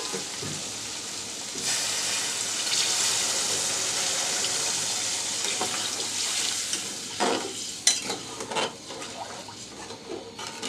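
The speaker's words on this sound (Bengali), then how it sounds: "এবার আমি পানিটা দিয়ে দিচ্ছি" Water is poured into a pan of lentils and mixed vegetables already cooking with fried paneer, raising a loud steady sizzle and hiss that runs throughout, with scattered scraping stir strokes near the end.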